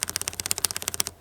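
A cleaned, lubricated mechanical keyboard switch pressed repeatedly in quick, steady succession, giving about twenty sharp, close clacks in a row with no talking.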